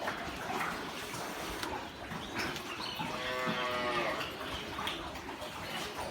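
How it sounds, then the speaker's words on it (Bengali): A good-quality dairy cow with a full udder moos once in a long, drawn-out call, amid steady background noise of a cattle shed with other cows nearby. "অনেক ভালো মানের একটা গরু"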